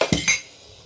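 Dishes are moved and lifted away during a water heater installation, giving two quick clinks and knocks close by, then quiet, with no talking.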